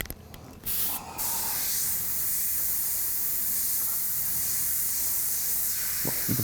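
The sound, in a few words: airbrush spraying reducer onto painted skull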